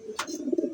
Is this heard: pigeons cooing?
yes